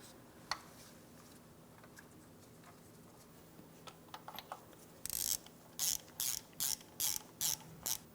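A ratchet tightens a knock sensor on a 2004-2008 Pontiac Grand Prix 3.8L V6 in a quiet workspace. A few faint ticks lead into a series of short, regular, crisp ratcheting bursts close by.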